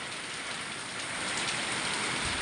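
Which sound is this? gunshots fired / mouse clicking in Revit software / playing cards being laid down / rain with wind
rain with wind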